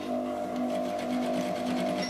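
Sewing machine runs steadily, stitching slippery satin fabric for a kutu baru kebaya, a continuous close, loud hum with fine rapid needle rhythm and no talk.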